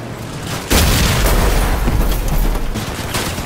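A vehicle explodes in Crossout, a sudden loud boom followed by a sustained rumbling roar of fire and debris that slowly fades, with no talking over it.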